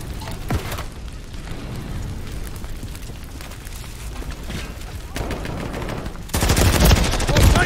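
Gunfire during a Call of Duty Modern Warfare 3 multiplayer match, a steady low rumble of distant shots that swells into loud, close bursts near the end.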